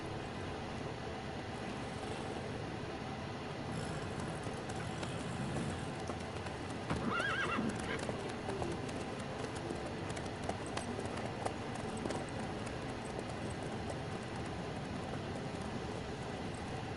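Horse hooves clip-clop at a steady trotting rhythm in a video game, carrying on for the whole stretch at moderate loudness over a constant background bed.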